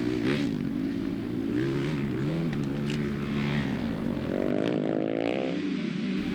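Motocross motorcycles launching from the start of a Schoolboy moto at Archview MX, with a KTM grabbing the holeshot; a continuous loud engine roar with revving and rising pitch near the end.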